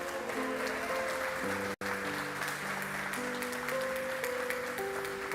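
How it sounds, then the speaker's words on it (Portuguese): A church congregation claps continuously in a dense, steady roar of applause, with sustained organ or keyboard notes playing underneath. "Você pode aplaudir a Jesus por isso?"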